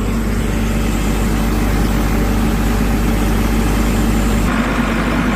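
An asphalt paver, essentially a wheeled tractor, idles with a loud, steady low diesel rumble that stays constant throughout, close up and alone, with a slight shift in tone near the end.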